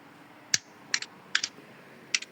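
A few sparse, quiet clicks of computer keys, four or five separate taps in a hushed room.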